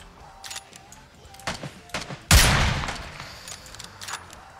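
Gunfire in the battle royale game PUBG: scattered sharp shots crackle through the first seconds, then one loud close blast at about two seconds trails off into fainter intermittent reports.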